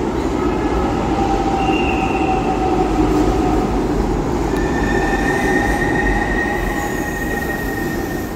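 A metro train runs past with steady, loud rail rumble, wheel squeal tones rising and shifting throughout, continuous and close with no speech.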